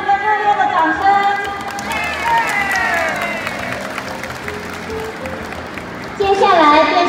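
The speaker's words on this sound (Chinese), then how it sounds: "谢谢大家的他们的热烈的掌声" Crowd applause and cheering at an outdoor volunteer day parade, a dense wash of clapping under a loud, continuous announcer voice and music, swelling again near the end.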